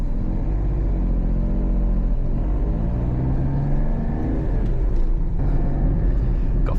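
A Toyota Aygo's engine drones and pulls up through the revs on a UK country road, a steady loud in-cabin rumble that climbs gradually with road noise throughout.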